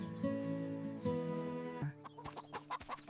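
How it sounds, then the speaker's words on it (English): Hens in a chicken coop give loud morning clucks, starting with two long drawn-out calls and then a quick run of short clucks. "He walks past the chicken coop, hearing the loud morning clucks from inside."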